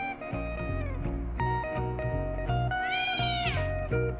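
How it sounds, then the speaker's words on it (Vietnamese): A cat meows repeatedly in a TV drama scene, rising, drawn-out cries heard close and clear over steady background music, with no talking. "Con mèo..."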